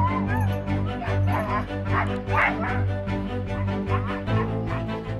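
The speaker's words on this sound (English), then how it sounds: "The Huskies are in town." Husky sled dogs in a snowy landscape, a close, excited chorus of overlapping yips, whines and barks, high and insistent, continuing without a break.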